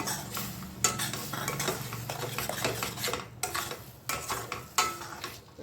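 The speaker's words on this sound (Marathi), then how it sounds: "मसाला छान परतून घ्यायचा आहे आपल्याला." Masala with added puree sizzles in a hot pan while a spoon scrapes and stirs it for a paneer dish, with repeated clinks and scraping strokes over steady frying.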